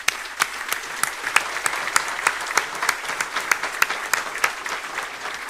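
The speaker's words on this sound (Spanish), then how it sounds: "Fuerte aplauso para él." An audience at a business association luncheon gives a steady round of applause, dense clapping with a few sharper claps standing out, sustained at an even level throughout.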